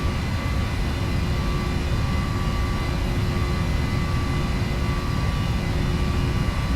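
Aircraft engines at high power during a takeoff roll, a steady, loud broadband roar with a constant whine running unbroken throughout, heard from inside the cockpit.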